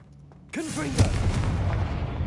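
After a short spoken incantation, the Confringo spell in Hogwarts Legacy bursts into a loud fiery explosion, followed by a roaring, crackling rumble that lingers and slowly fades.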